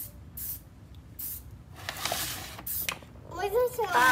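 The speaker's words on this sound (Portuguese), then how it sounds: "o lance de pintar com spray é assim, ó, pinta" Spray paint can hissing in short bursts at home, several sharp sprays separated by pauses, close and loud, with voices talking in between and toward the end.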